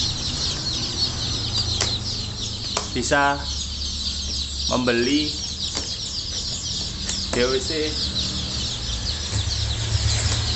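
KUB Janaka village chickens on a farm cluck and call in several bursts amid steady background noise, while someone talks over them.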